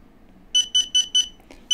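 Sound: DJI Spark remote controller beeping during firmware update

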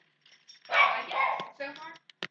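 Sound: dogs barking in a video game

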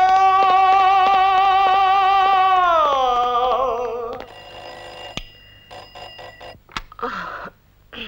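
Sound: telephone ringing

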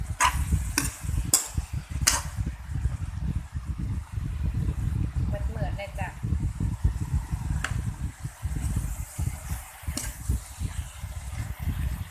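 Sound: stir-frying chicken with ginger in a pan

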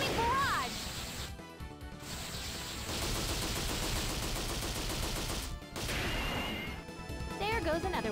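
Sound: attack sounds in video game Valkyrie Profile 3

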